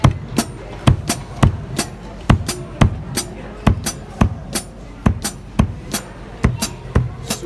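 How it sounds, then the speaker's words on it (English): Drum separation exercise on a kit, bass drum and hi-hats alternating in a steady, even pulse of sharp, close hits with low thumps between crisp cymbal ticks, played alone without talk. "now you are going to use your bass drum and your hi-hats. So it sounds like this."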